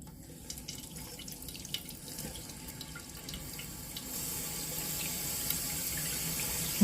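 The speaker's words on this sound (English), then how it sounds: "I'm gonna turn the water on." Water runs into a toilet tank after the supply is turned on, a steady hissing rush that gradually grows louder, heard alone without talk.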